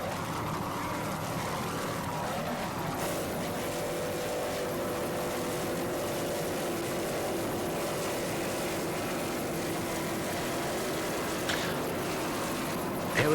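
The offshore racing powerboat Manhattan Express drones with a steady engine roar at moderate distance as the throttle man works it and it comes up on plane, the sound continuous and rough with a brief surge near the end.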